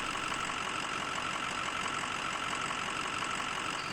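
A pickup truck engine idles in the off-road driving game Snowrunner, a steady even mechanical rumble held at one pitch with no voices over it.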